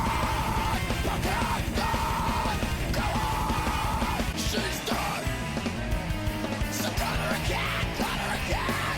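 Dense, loud metal track with a screamed vocal, heavy pounding drums and distorted guitars running continuously throughout.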